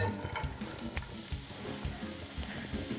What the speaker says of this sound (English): I'm gonna put a couple tablespoons of oil in the pan. And I'm gonna add my onions.